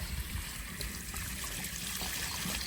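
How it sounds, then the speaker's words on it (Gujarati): Water pours and trickles steadily into something outdoors, a faint continuous splashing with no break. "પાણી ગયું અંદર"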